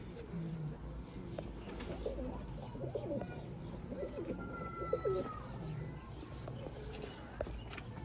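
A Sialkoti black-faced pigeon gives soft, low rolling coos in a few short phrases, faint and close, over a muffled background with light rustling.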